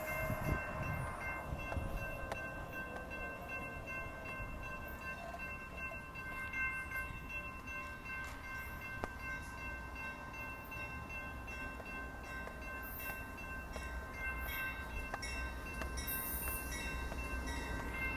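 A northbound Amtrak Texas Eagle passenger train passes at a crossing on Stassney Lane in Austin, a sustained loud rail rumble with steady rolling noise and horn-like tones throughout.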